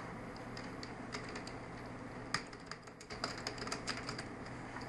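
Keys clatter on a computer keyboard while text is typed into a text box in InDesign, quiet, close, irregular bursts of clicks over a faint steady room hum with no voices.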